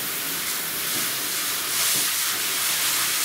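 A shower sprays water in a steady, close hiss while dogs are washed in a home bath, the dogs being a Borzoi, a Rough Collie and a Shetland Sheepdog. The spray runs unbroken and without voices.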